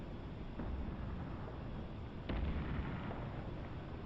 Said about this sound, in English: Holy shit, that's a lot of cruise missiles.